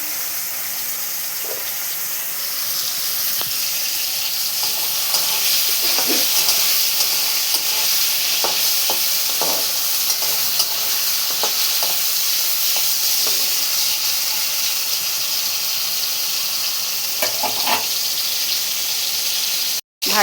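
Mushrooms fry in a pan with salt, giving a steady bright sizzle and hiss with occasional pops and stirring scrapes throughout, close and unbroken.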